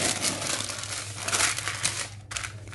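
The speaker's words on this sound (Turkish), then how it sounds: "Ve yağlı kağıtla iyice düzeltiyorum." Parchment paper crinkles and rustles steadily up close as salty cookie dough is pressed and smoothed into a long log by hand, with no talking.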